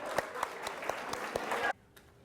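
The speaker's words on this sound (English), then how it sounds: "Let's give everybody a round of applause." An audience claps in a round of applause at a college student government event, a dense steady patter of many hands that cuts off abruptly near the end.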